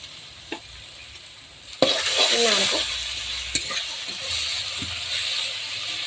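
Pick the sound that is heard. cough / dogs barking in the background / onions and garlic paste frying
onions and garlic paste frying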